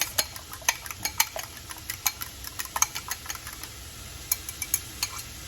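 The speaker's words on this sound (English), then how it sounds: "let's go ahead and give this a mix" Cauliflower rice and two eggs are stirred in a skillet, giving a steady run of light scraping clicks and taps from the utensil against the pan, moderately close, with no talking.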